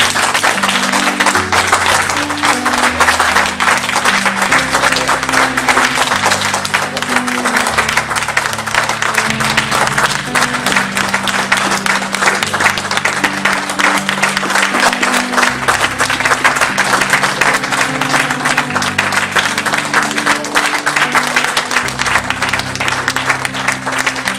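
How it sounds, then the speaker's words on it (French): Sustained applause from a church congregation during a worship service, loud and continuous throughout with steady broadband clapping over a low, rhythmic musical backing. "est-ce que nous pouvons offrir à notre merveilleux Seigneur créateur une offrande d'acclamation"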